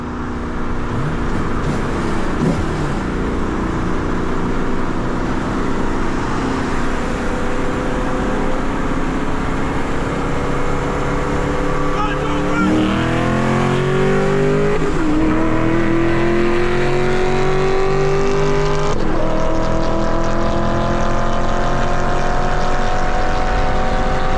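A 5th gen Camaro's engine roars close and loud while racing 6th gen Camaros, its pitch climbing steadily through the gears with short dips at each shift before rising again.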